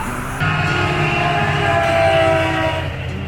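A Caltrain commuter train rolls past a level crossing in Silicon Valley, its loud, steady rumble of wheels and cars building and holding close by for several seconds, with a sustained horn-like tone over it.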